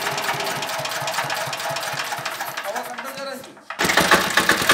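A 4x4 cultivator engine runs nearby with a fast, knocking throb. Voices talk over the steady chug, which briefly dips before surging louder again.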